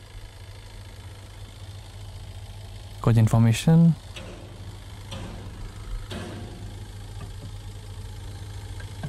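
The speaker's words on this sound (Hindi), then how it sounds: "डीजल इंजन है ये।" The diesel engine of a 2021 Tata Winger patient transport ambulance idles with a steady low, even hum throughout, while someone speaks briefly over it.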